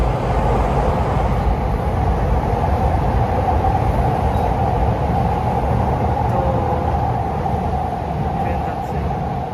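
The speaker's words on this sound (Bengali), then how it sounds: "ট্রেন যাচ্ছে।" A train passes near a station in Japan, a steady loud rumble of wheels and rail noise that holds throughout, with a voice talking over it.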